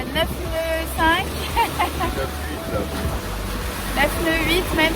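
Steady wind of about 20 knots rushes past the microphone while water washes and splashes around a sailboat moving at about 9.5 knots, with people talking over it.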